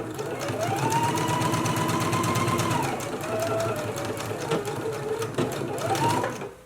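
A sewing machine running steadily up close while top-stitching a contrasting stitch across a dress pocket, a fast, even whirring patter with slight changes in pitch, and a voice talking over it.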